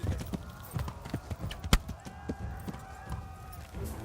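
Horse galloping in the video game Kingdom Come: Deliverance, a rapid rhythmic clatter of hooves close by, with one sharp loud knock partway through and a faint voice in the background.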